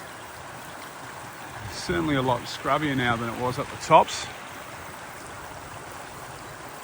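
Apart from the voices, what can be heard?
mountain creek flowing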